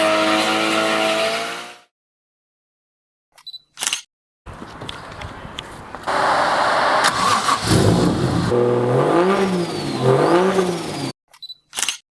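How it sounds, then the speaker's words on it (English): A Nissan S14A project car with a 1JZ engine fires up and revs hard through a burnout, a loud, ragged engine roar with rising and falling pitch, broken by gaps and sharp camera clicks. "Should we go and do a burnout?"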